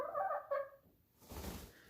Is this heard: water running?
no